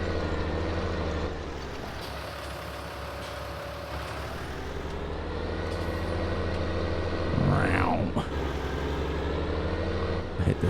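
Steady engine drone of a 160 horsepower tractor in Farming Simulator 19, a continuous low rumble with harmonic whine that rises slightly in pitch toward the end, with a brief swooping tone near the close.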